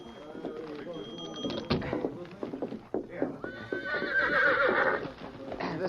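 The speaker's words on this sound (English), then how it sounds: "This is my horse." A horse neighs in a long rising whinny close by, preceded by hoof clops and shuffling, with a person talking nearby.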